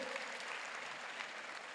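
Steady applause from an audience of mostly women fills a lecture room at a public entrepreneurship lecture, an even wash of clapping held at moderate volume throughout with no voices over it.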